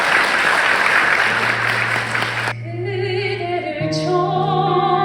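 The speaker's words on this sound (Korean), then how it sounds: "큰 박수 한번 부탁드리겠습니다." Wedding guests break into a burst of loud, dense applause that cuts off sharply, followed by the opening of a romantic song with a sustained tone and rising melody.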